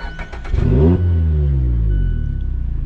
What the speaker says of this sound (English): Do they rev so high whenever you start them?